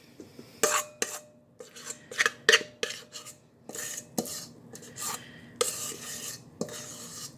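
A spatula scrapes pumpkin bread batter from a mixing bowl in a quiet kitchen, with close, repeated rasping strokes and sharp clinks against the bowl, coming in irregular bursts.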